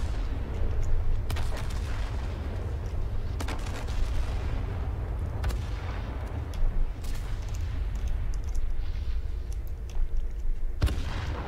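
Turret gunfire from a vehicle battle in From the Depths, a steady rumbling background broken by scattered sharp booming shots spaced irregularly, moderately loud and without talk.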